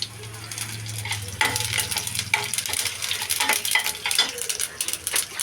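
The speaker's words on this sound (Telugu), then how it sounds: "అలాగే కొంచెం ఆవాలు వేసాను." Mustard seeds crackle and pop in hot oil with garlic, chana dal and urad dal for a tempering. Sharp close pops come over a steady sizzle, with a few stirring scrapes.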